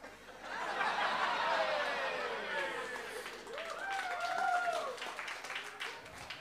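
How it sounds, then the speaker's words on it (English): Applause and scattered laughter ring out from a comedy club audience, a dense clapping wash that swells, holds, and then fades out near the end. "No, don't applaud that."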